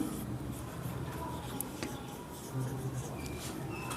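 A pen scratches steadily across paper as an accounting entry is written by hand. The sound is faint and close, with soft continuous strokes against a quiet room background.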